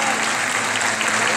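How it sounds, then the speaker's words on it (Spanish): Dense, continuous audience applause at a fashion show opening, a steady wash of many clapping hands for the full short stretch, with a voice faintly underneath. "Pido un aplauso muy grande para Silvia."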